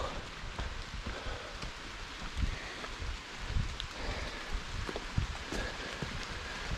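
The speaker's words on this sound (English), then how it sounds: "Rain's gotten a little bit harder." Rain falls steadily on the Appalachian Trail, a dense hiss of drops striking leaves and gear nearby, with occasional louder drips and light wind, no talking.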